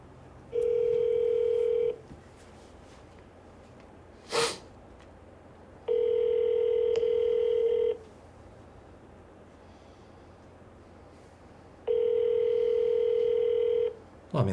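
A telephone ringback tone on an outgoing call, three long steady electronic rings spaced evenly apart with a short sniff or snort between the first two, loud and close with no talk.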